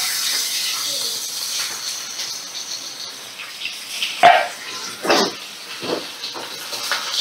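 Salt-and-turmeric-coated pomfret fish sizzling in hot mustard oil in a wok, a steady close frying hiss broken by a few louder bursts of spitting and crackling.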